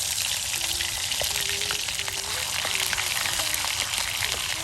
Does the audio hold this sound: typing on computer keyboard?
no